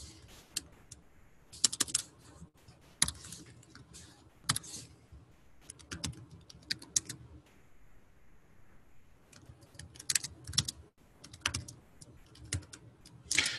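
Typing on a computer keyboard, in quiet, uneven bursts of key clicks with short pauses between them, close and alone.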